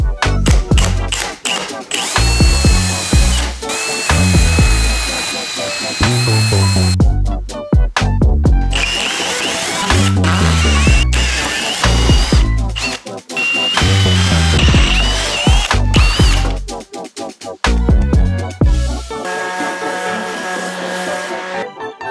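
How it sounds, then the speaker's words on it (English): Power drill boring a series of holes in a workshop, repeated bursts of motor whine and biting bit, loud and close with brief pauses between holes. "So now we just need to drill a bunch of holes"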